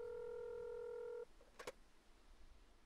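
Telephone dialing in the video game Mon Bazou: a sustained dial tone cuts off, followed by a brief quiet click and a short, sharp tone burst, faint and close, with no voices.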